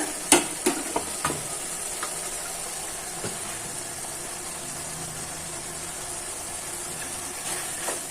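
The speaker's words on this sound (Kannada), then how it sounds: "ನಾನು ಮಾತಾಡ್ತಾ ಇರೋದ್ರಿಂದ ಸ್ವಲ್ಪ ಪಾತ್ರೆ ಸೌಂಡ್ ಬರುತ್ತೆ" A pot of tomato rice is stirred, with a few sharp metallic clinks at the start and scattered lighter taps later over a steady soft sizzle and hiss of cooking.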